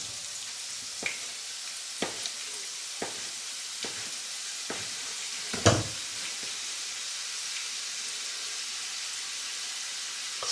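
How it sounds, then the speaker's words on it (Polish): Chruściki dough fries in plenty of hot fat with a steady, bright sizzle throughout, punctuated by sharp pops and taps, one louder clatter near the middle. "kładziemy na rozgrzany tłuszcz i smażymy"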